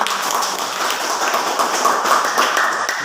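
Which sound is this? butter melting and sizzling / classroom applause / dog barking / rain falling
classroom applause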